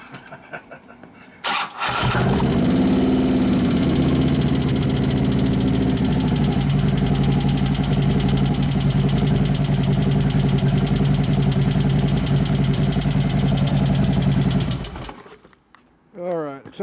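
A 2011 Harley-Davidson Road Glide with a twin cam engine cranks, catches and settles into a steady, loud, close idle with a lumpy rhythm for about thirteen seconds before shutting off.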